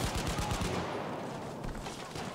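Rapid bursts of gunfire from the Battlefield V shooter game, sharp repeated cracks in quick succession that fade into a steadier rattle of more distant shots.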